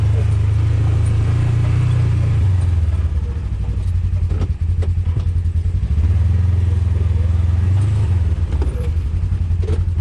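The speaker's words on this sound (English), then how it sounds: "Put it in 4-wheel drive, it'll climb anything." A four-wheel-drive vehicle climbing a snowy mountain trail, its engine droning loudly and steadily close by with rising and falling revs and some clattering, while people talk over it.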